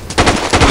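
Rapid automatic gunfire in the video game Battlefield 2 Special Forces, a quick loud burst of about five or six close shots in a tight rhythm, with no talking.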